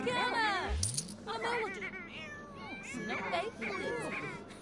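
A cat meows repeatedly in rising and falling wails, close and fairly clear, while a person talks over it and something rattles in the background.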